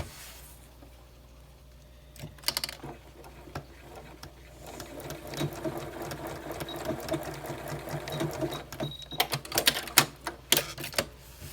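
A sewing machine back stitching a bandanna mask, running in short bursts with a fast mechanical chatter that grows busier toward the end, broken by sharp clicks and pauses.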